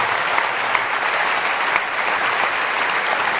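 A live audience at a soil-conservation conversation event claps continuously, a dense, even wall of applause with a few sharper individual claps standing out.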